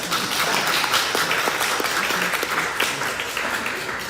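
A congregation at a Korean church's summer retreat claps together, a steady wash of many hands with a few sharper individual claps, holding fairly loud throughout.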